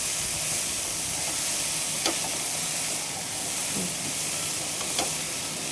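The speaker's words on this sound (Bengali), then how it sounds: "দেখো, আবারও আমি ওইভাবে নেড়ে চেড়ে নিচ্ছি।" Food frying in a covered pan is stirred now and then: an even, moderate hiss of oil continues throughout, with a few faint scrapes of a spoon against the pan and no voices.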